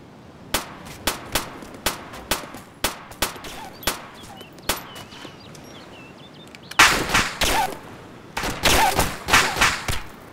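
Enemy gunfire in Arma 2, sharp single shots cracking at a steady irregular pace, then a denser cluster of heavier bursts toward the end, fairly close and loud with little talk.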